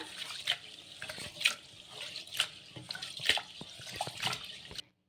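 Soaked rice grains for sago idli are rinsed with water, producing about five sloshing, splashing bursts in a rhythmic swirl before stopping abruptly.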